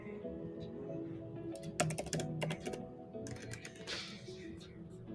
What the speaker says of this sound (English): Click on that and type in your SSN one more time.